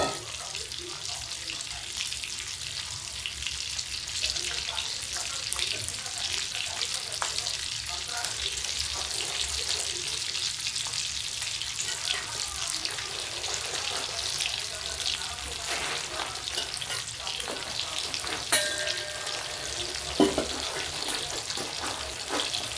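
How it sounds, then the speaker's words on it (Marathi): Pomfret and tilapia fish frying in a pan, a steady, loud broadband sizzle that runs continuously throughout, with occasional faint clinks and stirring noises. "तर आता हे पण आपलं फ्राय होतंय"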